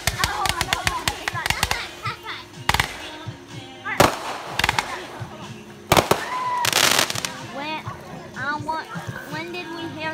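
Fourth of July backyard fireworks burst in several loud, sharp bangs and crackles, close by, with people talking and cheering excitedly between the explosions.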